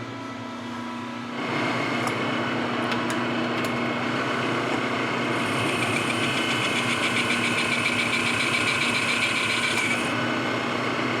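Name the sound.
lathe turning TD25G tilt cylinder at 431 RPM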